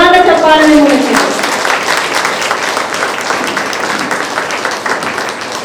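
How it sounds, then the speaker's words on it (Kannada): Loud audience applause at an anniversary program in Ballari, a dense sustained clapping that follows a brief voice at the start and continues evenly to the end. "ಜೋರಾದ ಚಪ್ಪಾಳೆ ಮೂಲಕ."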